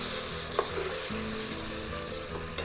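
Chopped vegetables sauté in a pan for traditional Telugu sambar, giving a steady, close sizzle and crackle with occasional stirring and no talking.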